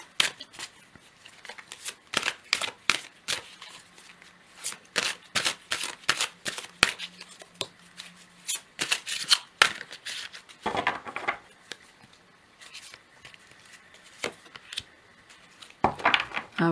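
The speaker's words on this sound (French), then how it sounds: "On va prendre une seconde carte." Tarot cards being shuffled by hand at a table: a long run of crisp, rapid riffling clicks and slaps, close and fairly loud, in bursts with short pauses, with no talking over them.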